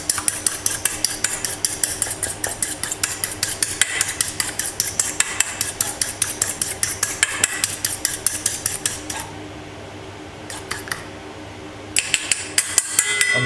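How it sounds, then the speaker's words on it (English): Egg yolks are beaten vigorously in a bowl, making rapid, even clinks and taps of the utensil against the sides. The beating is close and loud, pauses briefly near the end and then resumes, with no speech. "There's the egg yolks. Just beat them quite vigorously."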